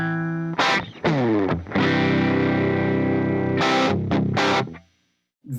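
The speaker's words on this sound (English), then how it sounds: "So with no pedals on, no compressor or nothing, here's what the amps sound like." An electric guitar played loud through amps with no pedals or compressor, a few sharp chord stabs followed by a long sustained ringing chord, then a couple more strums before cutting out.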